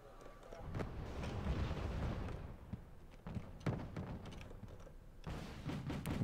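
Mortar fire booms in the video game Wargame Red Dragon, several muffled thumps and low rumbles over a steady battle din, fairly distant and soft.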